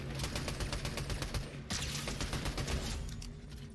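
Assault rifle fire in the shooter game Unreal, heard as rapid sustained automatic bursts with a brief break in the middle, loud and dense for the whole stretch.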